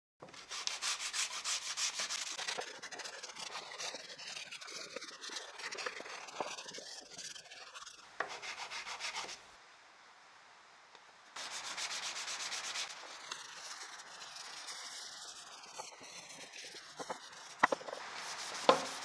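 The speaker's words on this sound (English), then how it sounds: "I'll hand sand the item using 180 grit sandpaper, and to finish, I'll use 360 grit sandpaper." Close, soft rasping of 360 grit sandpaper worked by hand over a wooden piece, in repeated back-and-forth strokes with a brief pause midway, then more steady rubbing.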